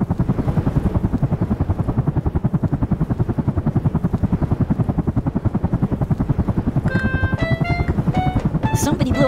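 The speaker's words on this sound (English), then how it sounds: "Police copter, please help!" A cartoon police helicopter in the appMink game whirs with a loud, steady rhythmic rotor chop throughout, joined near the end by bright tonal game sounds.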